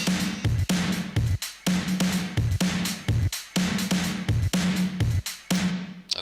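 A loud, punchy drum beat built from chopped sample slices, with repeated kicks and bright noisy hits in a tight, choppy rhythm.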